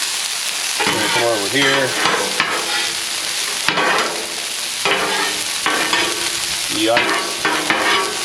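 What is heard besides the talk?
raw carrots, cauliflower, broccoli sizzling on a griddle top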